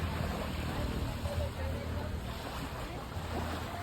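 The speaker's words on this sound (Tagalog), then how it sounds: "Mahinay-hinay ang dapyas ang balod." Soft, steady wash of waves lapping at a shore, with wind rumble across the microphone and faint distant voices underneath.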